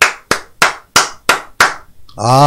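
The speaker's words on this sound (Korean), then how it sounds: "박수." Six sharp, evenly spaced claps ring out loudly and close, followed by a voice starting to talk.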